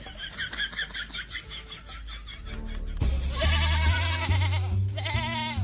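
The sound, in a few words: goat bleating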